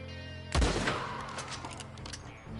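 A single loud, sharp sniper rifle shot in Red Dead Online, booming up close and trailing into a long echoing decay with faint background sounds and no talking.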